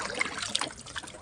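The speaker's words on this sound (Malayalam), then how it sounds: "പാടത്തോട്ട് വെള്ളം പറ്റിക്കുന്ന മോട്ടോറുടെ മടയത്." Water gushes and trickles from the outlet of an irrigation pump motor feeding a paddy field, a brief, steady splashing close by with small bright droplet sounds and no talking.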